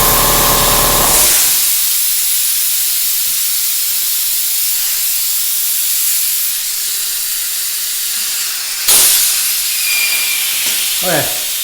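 Compressed air hisses loudly and continuously through a tire air chuck on a valve core at a manual tire changer, close up, with a brief burst and a few small knocks near the end.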